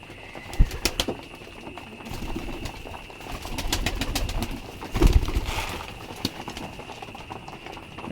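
Pigeons coo steadily close by, soft repeated calls with a few sharper wing flaps or thumps mixed into a low, busy background.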